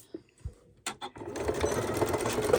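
A sewing machine stitching a lined zipper pouch with pins in the fabric starts after a few handling knocks and runs steadily and close, with a continuous rapid whirring rattle.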